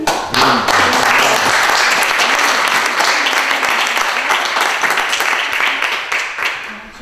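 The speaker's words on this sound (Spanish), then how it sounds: "le damos un fuerte aplauso a la gente." A seated audience gives a strong round of applause after a talk, a dense, loud and steady clapping that fills the whole stretch and tapers slightly at the close.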